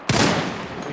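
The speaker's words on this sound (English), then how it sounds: "Who's shooting? Use cover!" Gunfire in the shooter video game Battlefield 6, a single loud burst of shots with a sharp onset and a short reverberant tail, heard alone.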